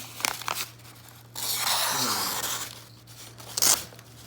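A Benchmade Bugout knife slicing through material, a sustained tearing, crinkling cut lasting about a second, framed by brief rustles and a sharp crunch near the end; a voice is heard faintly around it.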